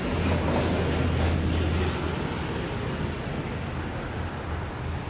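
Sea waves along the shore of Manila Bay on a fairly calm day, a steady broad wash of surf with a low rumble from nearby, with no talking.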